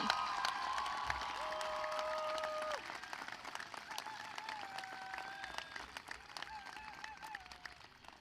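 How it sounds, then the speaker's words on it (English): Applause from the audience at a technical school graduation ceremony for facilities, technology and security staff, moderately distant clapping with a few whistles that gradually thins out. "please, a large round of applause to all of them."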